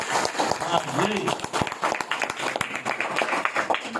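At a satsang celebrating a couple's wedding anniversary, the audience claps in sharp, scattered strokes over lively voices and talk throughout.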